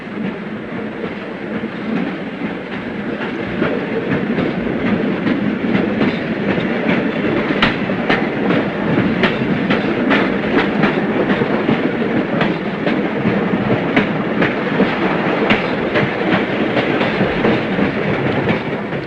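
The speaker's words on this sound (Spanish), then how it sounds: "por el que circula un tren en accidentada marcha, atravesando túneles y ciñéndose a infinitas curvas" A train running on the railway to Machu Picchu through tunnels and tight curves rumbles loudly and steadily, with a rapid clickety-clack of wheels over rail joints growing more prominent partway through.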